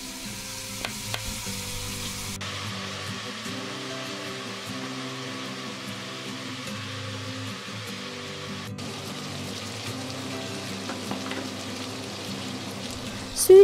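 Diced meat fries in oil in a pot with a steady, soft sizzle and occasional stirring clicks, continuous and fairly quiet throughout.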